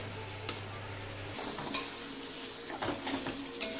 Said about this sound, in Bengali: পেঁয়াজটা ভাজা হয়ে গেছে। এবার মশলাগুলো সব দিয়ে দিয়েছি।